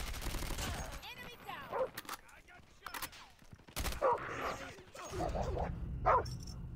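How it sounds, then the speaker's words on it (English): Dogs barking during a Domination match in Call of Duty Mobile, several sharp barks and yips mixed with bursts of gunfire and game voice callouts. "Oh, dogs."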